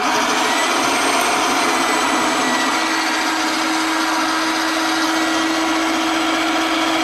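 An electric food mixer runs continuously with a steady, whining motor tone that stays constant throughout, close and fairly loud, with no talking.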